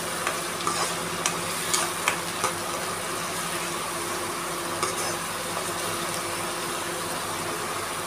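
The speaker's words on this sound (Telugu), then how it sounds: "నూనె వేడిన తర్వాత 1 టేబుల్ స్పూన్ జీలకర్ర, దాల్చిన చెక్క, టమాటా ఆనియన్స్ పేస్ట్" Cumin, a cinnamon stick and tomato-onion paste fry in hot oil with a steady, close sizzle, punctuated by scattered clicks and scrapes from stirring, with no talking.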